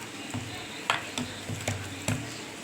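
Hand-mixing mashed boiled potato and rice with jaljira water in a bowl, soft wet squelching and rustling with several brief louder slaps and scrapes, close and quiet.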